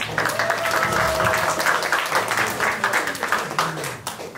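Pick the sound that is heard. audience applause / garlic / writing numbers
audience applause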